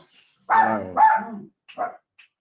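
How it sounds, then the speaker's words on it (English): A dog barking indoors, two quick close barks followed by a softer shorter yip, clear and loud against near silence. "Can't hear you over the dog."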